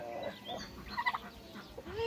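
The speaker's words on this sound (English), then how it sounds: "these two turkeys here are bronze-breasted turkeys." Bronze-breasted turkeys, not factory-farm raised, gobble and cluck in short bursts close by, several rapid calls overlapping across a couple of seconds.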